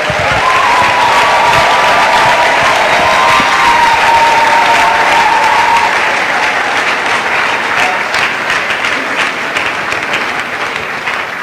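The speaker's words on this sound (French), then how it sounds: "Acclamons, acclamons, acclamons." A church congregation bursts into sustained applause and cheering in a large hall, loud and dense throughout, with scattered shouts rising above steady clapping.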